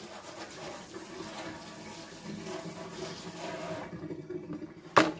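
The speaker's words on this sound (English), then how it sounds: "I'm gonna go wash my hand." Tap water running at a kitchen sink for hand washing, a soft steady splashing hiss that stops near the end, followed by a brief clatter.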